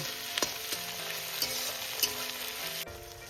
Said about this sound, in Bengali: টমেটোটা এটা আমি কিছুক্ষণ একটু ভেজে নেব